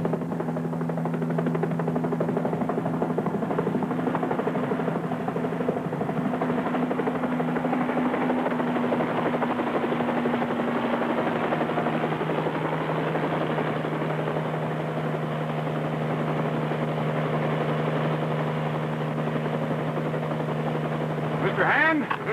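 A police department helicopter flies over the Los Angeles freight yards in a 1958 film, its rotor chop and engine drone steady and fairly loud throughout, with a narrator's voice running over it.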